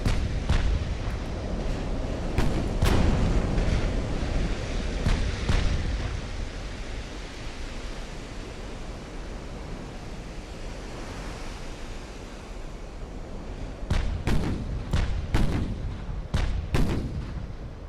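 Battleship turret guns fire in a naval warfare game, several heavy booming blasts clustered at the start and again near the end over a continuous sea-wash and wind rumble.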